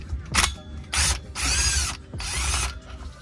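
A hand ratchet clicks in four loud bursts as it loosens the rear driveshaft bolts at the differential on a BMW E46, with brief pauses between the spins.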